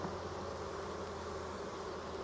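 Honey bees buzzing around a syrup feeder at a hive in fall, a close, steady droning hum of many insects with no pauses and no voices.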